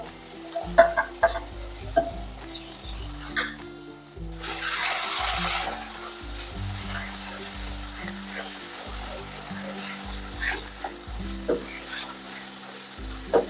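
Pea paste drops into hot oil with fried poppy seeds in a home kitchen pan, bursting into a loud sizzle that settles into steady frying and occasional stirring scrapes, with clinks and faint water sounds earlier.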